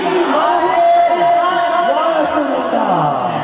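A crowd shouts back in unison in response to a Nara-e-Takbir chant at a naat gathering, loud and close, with voices swelling in a single sustained roar.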